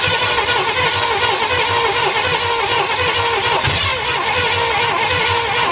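An OBS drag truck engine runs and revs hard, loud and close, with a steady rough roar and no talk.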